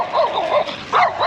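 A small white and brown dog barks in quick repeated yips, about four sharp barks across a second, fairly close and clear with no talking.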